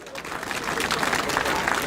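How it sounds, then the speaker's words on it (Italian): Applause rises from an audience at an evening festival event in Quartu Sant'Elena, building from softer clapping into a fuller, steady patter with voices faintly mixed in. "con un applauso bellissimo"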